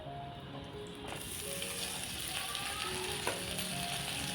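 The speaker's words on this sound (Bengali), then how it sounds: "ডাল আর চালটা আমি দিয়ে ভেজে নেব" Lentils and rice fry in ghee in a pan, giving a steady close sizzle with occasional stirring scrapes, continuous and fairly loud.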